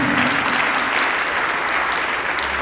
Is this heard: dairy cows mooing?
no